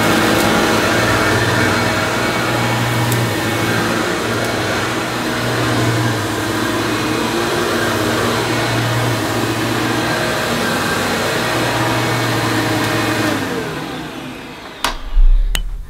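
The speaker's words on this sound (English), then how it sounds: "Also see if the suction does actually divert through the hose when it's on setting 5, so let's give it another go." A Hoover Professional Dual Purpose vacuum cleaner runs on setting 5 with a steady, loud, close motor whine that holds nearly unbroken for about thirteen seconds before cutting off, followed by a brief knock.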